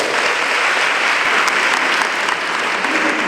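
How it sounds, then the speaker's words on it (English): Loud, sustained clapping from a crowd at a girls' health summit in Obuasi, a dense, continuous wash of many hands that holds steady for the whole stretch. "Clap for yourselves."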